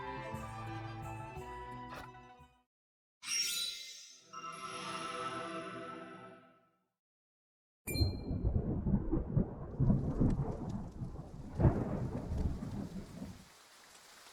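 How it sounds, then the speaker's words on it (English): Thunder and rain in the Triangle Strategy video game: after a few chiming, musical swells and a brief silence, a sharp crack of thunder gives way to heavy rolling rain and rumbling. "Rain! Honest to goodness, rain!"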